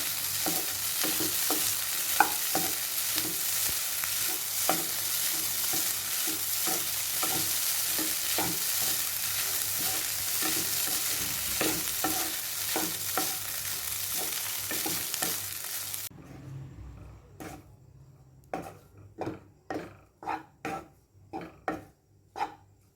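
Egg kothu idiyappam tossed with masala in a frying pan: a steady hiss of frying under repeated scraping stirs for about sixteen seconds, then the sizzle drops away, leaving a run of sharp, evenly spaced spatula knocks against the pan.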